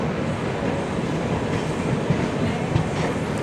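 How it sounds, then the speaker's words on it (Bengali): The Darjeeling Mail, train 12344, rushes past close by with a dense continuous roar of rolling wheels and carriages, loud and steady, with faint clicks of wheels over rail joints. "আর এই দেখুন দার্জিলিং মেল যাচ্ছে"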